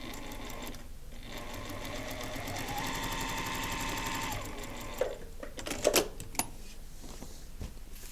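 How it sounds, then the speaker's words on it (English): Sewing machine stitching paper-pieced quilt blocks, a steady rapid mechanical whir for several seconds that stops, followed by a few clicks and handling knocks of fabric and paper. "I'm going to start back before the line as always and stitch past the line."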